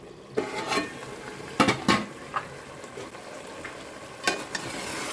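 Mutton sizzles steadily in hot oil while a utensil scrapes and clanks against the pan in several short stirring bursts.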